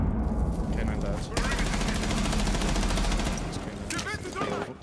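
Rapid gunfire in the video game Rainbow Six Siege, with dense bursts and repeated volleys of automatic shots, loud and continuous under faint voices.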